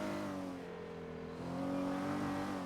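Car cruising in GTA NoPixel roleplay, a steady engine drone with a gentle rise in revs partway through, fairly quiet and continuous, with no talking.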